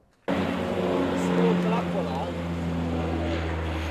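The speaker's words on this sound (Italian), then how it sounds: "Gli elicotteri vanno e vengono, il loro rumore scuote da tre giorni tutto il circondario." A loud, sustained engine drone with a low steady hum starts abruptly and holds, with faint talk underneath, as an army helicopter flies close overhead near a volcano.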